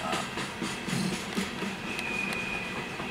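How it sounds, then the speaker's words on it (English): A grain train rolls past on a railroad as a steady broadband rumble with faint clanking, holding a constant level throughout without any talk. "it's a grain train"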